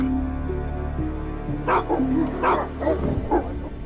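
A dog gives a quick run of yips and barks, mid-distance and moderately loud, over a steady droning music bed.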